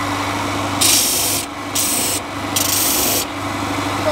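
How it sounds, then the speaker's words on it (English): A small wooden toy tugboat part smoothed on a bench sander, with a steady motor hum under repeated rasping bursts as the wood is pressed to the belt, three or four passes in a row. "And that's going in the sander."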